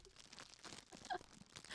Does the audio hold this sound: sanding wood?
no